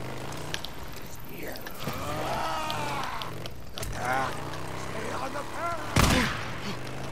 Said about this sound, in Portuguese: Vamos aqui levar uns tiros.